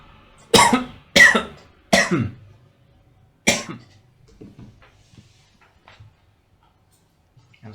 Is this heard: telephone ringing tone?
no